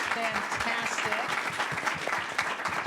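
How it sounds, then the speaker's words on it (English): An audience applauds a panel at a healthcare architecture and design symposium, a dense, steady round of clapping that lasts throughout with some voices mixed in. "Can you join me giving a round of applause for our panel today?"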